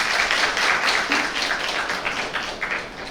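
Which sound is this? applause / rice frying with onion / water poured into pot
applause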